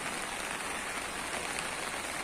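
Steady, even rain falling on surfaces, a soft continuous patter with no other sounds.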